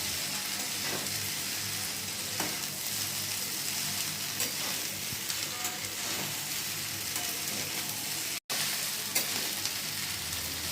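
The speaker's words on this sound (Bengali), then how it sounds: "পাস্তাটাকে এবার ভালো মতন করে একটু ভেজে নিলেই ব্যাস রেডি হয়ে গেল আমার পাস্তা।" Pasta fries in a pan with a loud, continuous sizzle and crackle close up, broken by occasional stirring scrapes and one sudden brief dropout near the end.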